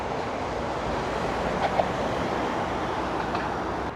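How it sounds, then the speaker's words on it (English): High-speed train rolling past at low speed on a rail line in a Chinese city, a steady broadband rumble and rush heard from a short distance, even in level with no talking. "That is a high-speed rail, traveling in low speed."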